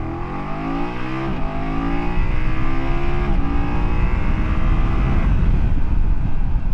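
A 2024 BMW F800GS motorcycle engine accelerating hard, its pitch climbing through gear changes toward about 80, loud and close with wind noise rising over the later seconds and no talk.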